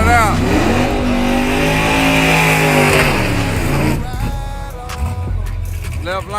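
Foxbody drag race cars on nitrous roar hard off the line at a race park, engines screaming as they rev and pull away, loud and close with a crowd voice faintly underneath.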